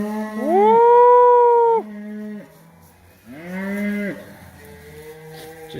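Cows and calves lowing on a foggy morning in a grazed pasture: two long, loud, close moos with a pause between them and no talk over them.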